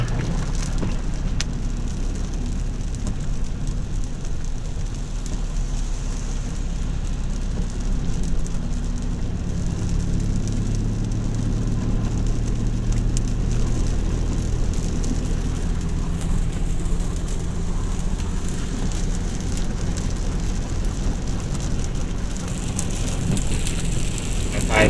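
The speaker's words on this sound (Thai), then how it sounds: "ก็ฝนมันตกนะครับ" Heavy rain pours down in Pathum Thani after a day and night of downpour, a dense, continuous hiss that runs unbroken throughout at close range, with some speech beneath it.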